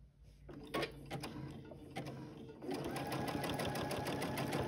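Sewing machine stitching along the center seam of a quilted triangle table runner, a steady close mechanical whir and needle patter that grows louder and denser partway through, with no talking.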